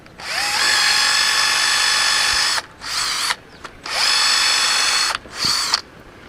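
Power drill boring into hardwood with a drill bit, two long high-pitched whining bursts, each followed by a shorter one, loud and close with brief pauses between runs.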